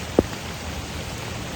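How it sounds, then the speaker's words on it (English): Heavy rain pours steadily as a dense, even hiss outside a restaurant in Costa Rica, with one brief louder splash or tap near the start. "It's like raining really, really hard."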